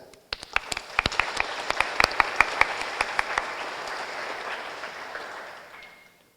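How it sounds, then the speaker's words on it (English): Conference audience at the ISCA 2025 award ceremony applauds award recipients from AMD: scattered sharp claps quickly swell into broad sustained applause, then taper off and fade out near the end. "A round of applause for them."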